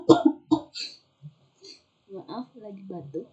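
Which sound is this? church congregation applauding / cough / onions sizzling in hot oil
cough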